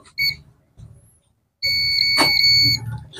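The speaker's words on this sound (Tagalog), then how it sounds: "So i-test natin sa kanyang continuity. So gamit tayo ng buzzer." A multimeter's continuity buzzer beeps while checking a solid state relay, giving two short tones, then a longer sustained high-pitched beep, with brief handling noises and a faint voice in between.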